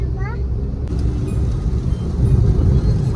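Low, steady engine and road rumble from inside a vehicle caught in heavy road traffic, continuous throughout, with a voice talking over it.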